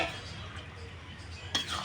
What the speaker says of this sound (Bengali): তাই এখানে দেখো একটুখানি আমি নেড়ে দিলাম ডালটাকে